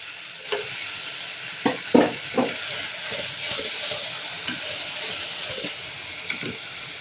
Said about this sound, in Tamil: இதை லைட்டாக வதக்கி விட்டுருவோம்.